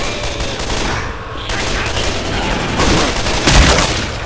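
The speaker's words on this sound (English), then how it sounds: "Can we not shoot each other?" Gunfire in the zombie shooter Left 4 Dead 2, a dense, steady stream of rapid shots with a louder burst near the end, heard with game noise.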